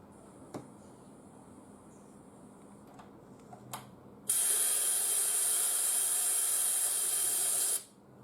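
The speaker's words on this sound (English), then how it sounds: "So the next thing is just spray it black, the very tip of the model." An airbrush sprays black paint onto the tip of an Imperial Knight model, a steady close hiss lasting about three and a half seconds after a few faint clicks.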